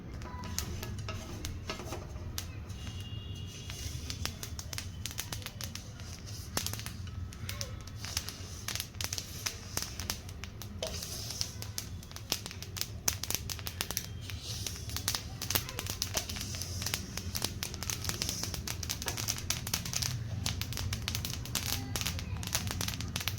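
Sesame seeds popping and crackling as they roast in a pan for til ladoo, a dense, steady run of tiny sharp pops that lasts throughout.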